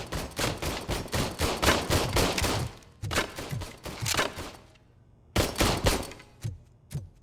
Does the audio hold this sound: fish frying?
no